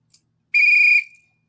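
A single sharp referee whistle blast comes from a soundboard during a sports talk show. A tiny click comes first, then the blast sounds alone, loud and clear for about half a second before cutting off.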